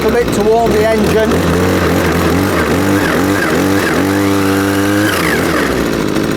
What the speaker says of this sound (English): Just rev it a little bit to warm the engine.